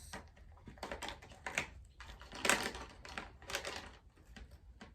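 Six sharpened pencils are dropped into a child's pencil box, giving a few quick wooden clatters and light taps at close range, with no talking.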